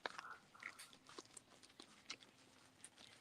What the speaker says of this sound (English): Somebody chewing some potato chips?